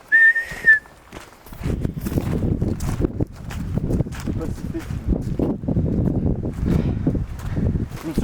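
A short, clear whistled tone near the start, then a steady, busy rumble of voices and movement fills the rest.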